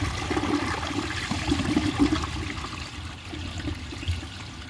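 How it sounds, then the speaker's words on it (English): An American Standard Cadet toilet fitted with a Fluidmaster flush valve flushes nearby, a steady rush of water swirling and draining at constant loudness, with no voices. "let's start off by giving the Cadet a flush"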